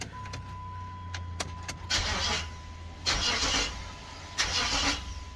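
An AWD Hemi V8 cranked in short bumps while the car sits in park on a lift, three brief bursts of starter and engine noise separated by a steady idle-like hum and faint clicks.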